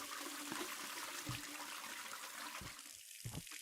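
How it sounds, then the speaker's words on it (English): A faucet runs in a horror video game, a continuous hiss of flowing water with a few splashy knocks near the end, fairly close, with no talking. "I didn't turn on the faucet"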